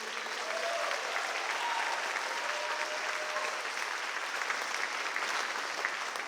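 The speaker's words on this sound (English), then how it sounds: "So we could just give Mr. Mullen a round of applause." Sustained audience applause fills a school arts festival concert hall, a steady dense wash of many hands clapping at even loudness throughout, with faint crowd murmur beneath.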